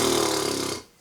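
A voice imitates a horse with a short, buzzing lip trill as a beatboxing warm-up, a rough fluttering rattle lasting under a second before it cuts off.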